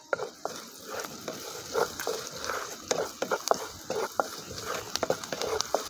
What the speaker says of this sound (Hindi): इसको चला लेंगे अच्छे से